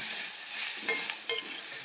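Chickpea roast masala with a small pinch of chicken masala frying and being stirred in a pan: a steady close sizzle with soft spoon scrapes, no voices.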